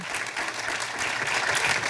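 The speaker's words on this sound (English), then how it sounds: "Clap on that." Audience applause at a panel discussion on economic equity in Chicago, a dense, steady wash of many hands clapping, fairly loud and continuous, with no talk over it.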